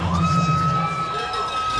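A crowd cheers in the arena at the NBA 2K League Finals, a loud, steady roar with shouts and whoops plus a sustained horn-like tone running through it.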